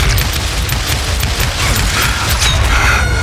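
Gunfire in the Western shooter game Call of Juarez: Gunslinger, a dense, loud run of booming shots and mechanical clatter over a steady low rumble, with no talk.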